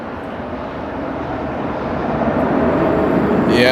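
A KLM cargo Boeing 747 at Amsterdam Airport: a steady, broad jet engine roar that slowly grows louder, heard alone with no talk.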